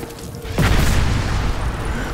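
A deep, booming napalm explosion in a video game bursts in abruptly and rumbles on with a loud, sustained roar.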